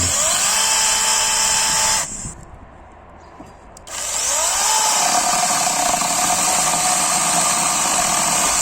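A Procraft PKA46 cordless chainsaw cuts through wood with a loud, steady whining buzz, drops to a quiet idle for about two seconds, then bites back in and keeps cutting at full speed.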